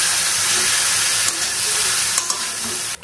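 Cabbage and potato pieces fry in hot oil in a wok with a loud, dense sizzle and hiss that runs steadily throughout. A few soft clicks of stirring are heard, and it briefly drops out near the end.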